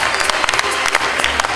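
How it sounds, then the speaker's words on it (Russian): Concert audience at a student spring show for a university engineering and construction faculty applauds steadily, a dense wash of clapping with a few sharper claps standing out, fairly close and loud. "Аплодисменты."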